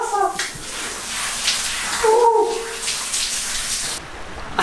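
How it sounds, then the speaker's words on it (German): Water starts flowing again from a tap or outlet at a tropical stay on Samar in the Philippines, a continuous hissing splash close by, with a brief vocal sound partway through. "Ja, es kommt wieder Wasser."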